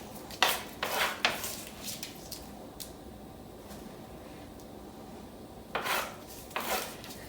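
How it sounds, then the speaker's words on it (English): Roasted vegetables, including peppers, portobello mushrooms and asparagus, are scooped out of a dish: several close scraping clinks of a utensil against the dish come in bursts, with quieter gaps between. "And now I'm just going to scoop all the veggies."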